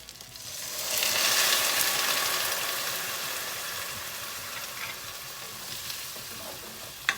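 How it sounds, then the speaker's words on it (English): Brussels sprouts in a pan with Chardonnay, brown sugar and nutmeg sizzle loudly as they are stirred, the hiss swelling after a second and then easing, with occasional scrapes and a sharp clink at the end. "We're going to stir all that in there."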